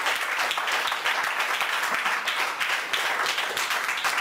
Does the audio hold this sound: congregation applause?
yes